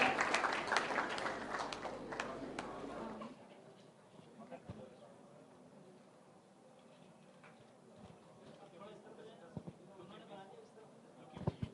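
Applause from an audience at an arts and culture gallery event, loud and full for the first few seconds before falling away into a quieter room with scattered small sounds.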